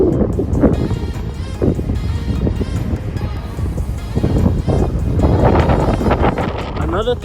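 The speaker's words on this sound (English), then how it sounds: "it's just so windy" Strong gusty wind outdoors on a walk in Grande Prairie, Alberta, roaring and buffeting close against the microphone throughout with shifting intensity.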